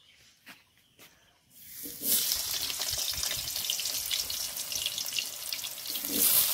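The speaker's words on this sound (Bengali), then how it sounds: "এবার আলুগুলো ভেজে নেব" Potatoes frying in hot oil in a pan for a Bengali soybean curry, a loud steady sizzle that bursts in after a couple of seconds of quiet with a few faint knocks, then crackles on continuously.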